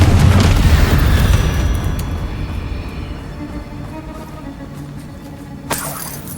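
A spell explosion in the Hogwarts Legacy video game bursts out as a loud, deep boom that rolls and slowly fades over several seconds, with a smaller crack near the end.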